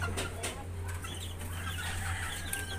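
Young month-old chicks and chickens cluck and peep softly around a farmyard, scattered short calls rising over a steady low background hum.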